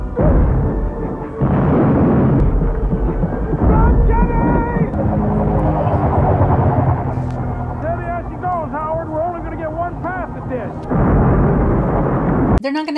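A loud rumbling roar of an airplane and action from the 1991 film The Rocketeer, with heavy low engine noise and dramatic score, while voices talk over it.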